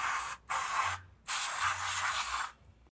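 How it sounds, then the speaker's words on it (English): Brake cleaner sprays in two bursts onto a brake caliper of a 1994–1999 Land Rover Discovery, each a close, loud hiss lasting under a second, with a short pause between them. "We're gonna use a little bit of brake clean and just kind of clean up our caliper a bit."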